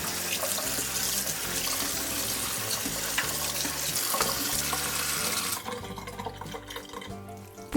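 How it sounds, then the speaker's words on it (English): Cold tap water running over cooked tapioca pearls in a sink, a steady close splashing rush that continues for several seconds before cutting off, leaving a quieter tail with faint trickles. "Drain them and rinse them with cold water."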